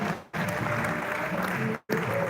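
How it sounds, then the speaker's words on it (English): A large audience at an award night for the NLNG Prize for Literature and Science gives continuous applause as a king is welcomed onstage, a dense, loud clatter broken by two brief drops to silence. "Keep clapping if you may."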